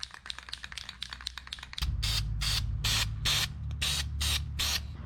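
Touch-up paint sprays from a can onto a 1977 Datsun 620 in a series of short, close hissing bursts, preceded by quick rattling clicks of the can being shaken.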